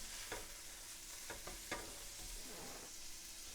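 Pancetta sizzles in a pan as it cooks for a stuffing, with a steady quiet frying hiss broken by a few soft clicks of stirring.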